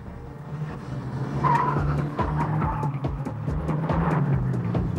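A Gillet Vertigo sports car drives hard, its engine roaring steadily and loudly close by while the tires squeal and skid across several seconds.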